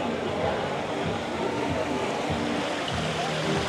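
Water running steadily from a tap left on at an outdoor drinking fountain in Manly, Sydney, a continuous close splashing wash with traffic-like rumble beneath and possible faint voices.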